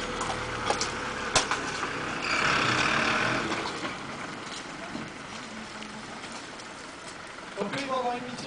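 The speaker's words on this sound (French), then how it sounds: "Donc le deuxième engin arrive. Donc cet engin, c'est ce qu'on appelle le véhicule de secours routier" Fire brigade road rescue extrication truck pulls up at a staged road accident during a road safety day, its engine rumbling and idling under ongoing talk, with a brief hiss and beeps near the end.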